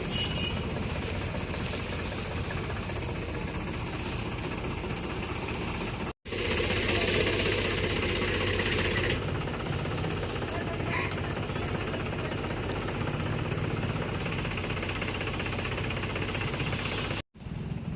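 A tractor engine idles loudly and steadily on a farm where dry fodder is loaded for cows, a continuous throbbing rumble that runs nearly unbroken for the full length with two brief dropouts.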